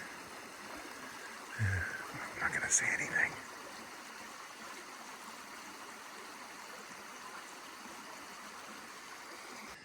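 Steady broadband rush of creek water flowing along a coastal trail near Half Moon Bay, continuous and fairly soft throughout, with someone speaking briefly near the start over it.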